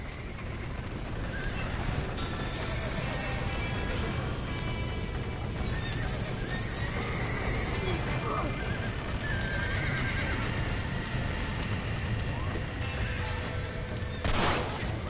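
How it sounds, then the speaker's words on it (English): Horses whinny and neigh repeatedly over steady hoofbeat clatter and background commotion in Red Dead Redemption, during a burning ranch, with one sharp, loud neigh near the end. "Now get the horses out!"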